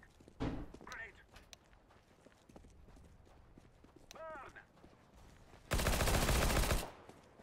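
Desert Eagle gunfire in CS:GO, heard as sharp separate shots scattered through the clip, one loud burst near the end, with someone talking softly in between.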